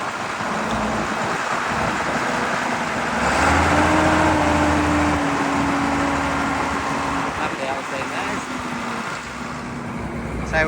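A Ford vehicle reverses into place at a busy machinery show, its engine rumbling steadily with a rising tone as it backs up, amid crowd murmur and outdoor background noise.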